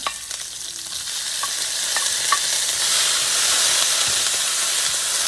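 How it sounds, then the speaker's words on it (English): Sliced onion and cabbage sizzle and hiss steadily in a hot pan, the frying growing louder, with faint clinks of stirring. "we take our sliced onion and cabbage, and let's fry it too"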